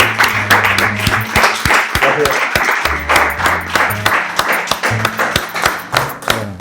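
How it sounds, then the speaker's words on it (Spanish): Audience applause after a book presentation of a spy novel, dense steady clapping from many hands filling the room, with a low hum beneath and a few sharper claps standing out. "lo que os pido por favor que le deis un fuerte aplauso a Ray Busson."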